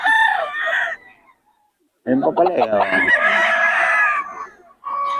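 Roosters crow and cluck at a Bocaue market stall, a loud drawn-out crow rising over clucking with people talking close by.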